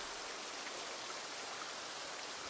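Steady, even rain pours in Project Zomboid, a dense continuous hiss with no breaks and no voices, moderately loud and enveloping.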